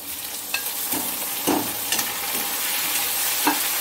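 Tomatoes and onions sizzle and crackle in a pan over high flame while a spoon scrapes and stirs them several times.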